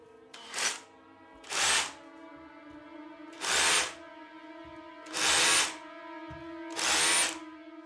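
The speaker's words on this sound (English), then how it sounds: "she thought she could hear drilling and hammering next door" A power drill runs in five short, loud bursts at fairly even intervals. Quiet gaps separate each whirring spin-up, and no one speaks.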